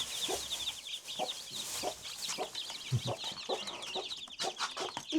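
Hen with chicks clucking steadily in a farmyard, a series of close, repeated clucks over a background of high, busy peeping from the chicks.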